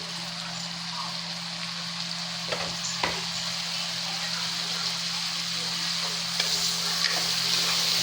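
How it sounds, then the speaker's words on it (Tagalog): Garlic butter tilapia sizzles and fries steadily in a pan while being stirred, with a continuous hiss and a few soft clinks of the utensil against the pan, close and at a moderate level, no voices. "Halu-haluin natin."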